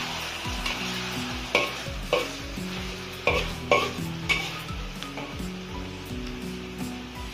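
Guangxi cured fish tossed in a wok gives a loud, steady sizzle and fry, broken by repeated scraping strokes of the spatula against the metal, with no voices.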